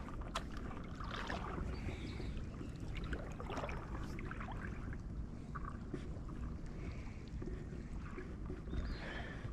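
A boat is paddled on Lake Biwa, faint water sloshes and dips mixed with soft wind noise and gentle lapping, low and steady without speech.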